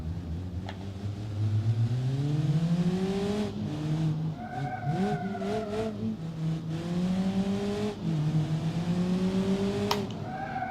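A simulated car engine in BeamNG Drive revs up and down through repeated rising pitch sweeps, with gear changes, steady and fairly quiet throughout with no talk.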